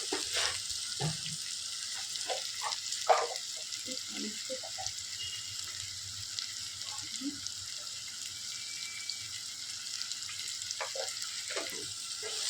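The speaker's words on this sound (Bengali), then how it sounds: "এই যে এটা এখন ভালো করে ভেজে নেব" Taro stolons frying in a pan with shrimp, salt and turmeric, a steady broad sizzle with occasional stirring scrapes and clinks, fairly close and continuous throughout.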